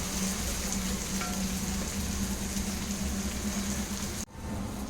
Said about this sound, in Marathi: टोमॅटो आपल्याला मौसूद होईपर्यंत यामध्ये शिजवून घ्यायचं आहे, गरम घ्यायचं